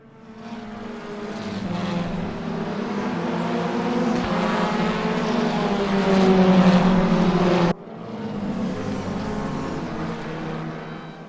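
A WTCR touring car engine in the RaceRoom sim racing game at Sachsenring drones steadily at close range, rising in intensity, then cuts off briefly before resuming at a slightly lower level.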